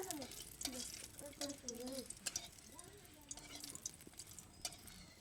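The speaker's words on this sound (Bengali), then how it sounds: "এবার আমি নেড়ে নেবো তেলটা লাল লাল হয়ে গেলে" Oil and dried red chillies are stirred in a pan for a meat curry, with a soft continuous sizzle and scraping strokes while a voice talks over it.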